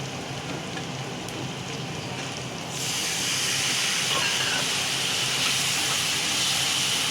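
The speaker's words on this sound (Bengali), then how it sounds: "সব দিয়ে মশলাটাকে কষানো হচ্ছে" Masala of turmeric, coriander, cumin and chili powder with salt fries in oil in a pan for a fish kalia, making a steady hiss that swells suddenly into a louder, fuller sizzle partway through and then holds.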